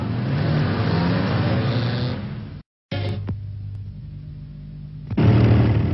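An old Peugeot moped engine runs and revs in a vintage advertisement, a buzzing two-stroke drone with a sudden cut to silence, a sharp pop, then a quieter idle before the revving returns loudly.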